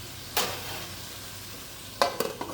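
Large fish cooking in a pan over a low flame gives a soft continuous sizzle, broken by a sharp burst of spattering early on and a few more quick crackles and pops near the end.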